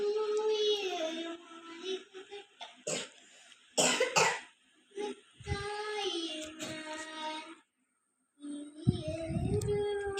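Several bursts of coughing break up a stretch of talk, close and loud, with a brief silence near the end.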